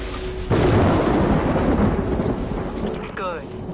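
Thunderstorm in the video game Destiny: The Taken King, a sudden loud thunder crack that rolls into a long rumbling decay with rain-like hiss, followed by a brief crackling electrical zap near the end.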